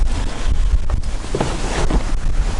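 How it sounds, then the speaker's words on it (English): Strong gusty wind buffets the microphone, a constant roaring rumble with uneven surges, loud and close, no voices. "it's windy today."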